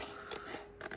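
Scissors snip around a piece during a resin craft project with polystyrene balls, making a short run of close, crunchy cutting and scraping sounds over about a second.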